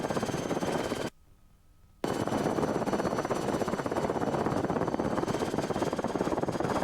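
Rotor of a Rotorway helicopter in flight, heard from inside: a loud, steady, rapid chopping beat that fills the clip, cut briefly by a second of near silence before returning.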